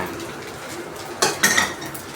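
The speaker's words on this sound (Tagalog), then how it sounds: "Halu-haluin hanggang sa" A utensil scrapes and knocks against a pan while fried rice with egg and hotdog is stirred, with two sharp clanks near the end after a quiet stretch.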